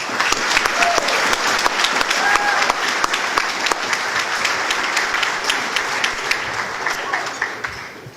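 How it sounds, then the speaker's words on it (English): Dinner audience at a 2019 scholarship dinner giving steady, loud applause, a continuous roar of many hands clapping close by for the whole stretch. "And I just got to applaud these guys one more time."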